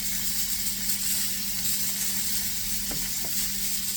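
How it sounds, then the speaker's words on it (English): Rib eye steaks sear in a pot, giving a loud, constant hissing sizzle close up, with a faint low hum beneath and two small clicks toward the end. "See how they're searing?"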